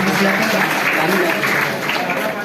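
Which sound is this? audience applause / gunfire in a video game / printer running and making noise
audience applause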